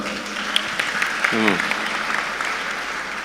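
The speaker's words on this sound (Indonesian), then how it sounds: "tepuk tangan buat Ridho" An audience of Gontor pesantren students gives a brief burst of applause for Ridho, with a voice talking over the clapping.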